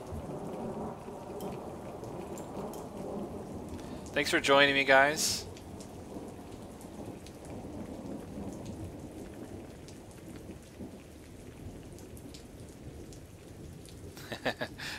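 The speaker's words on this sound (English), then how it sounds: "this rain sounds are making me sleepy" Rain patters steadily and thunder rumbles through a storm, a soft continuous backdrop heard under a voice. A brief tonal chime cuts in partway through.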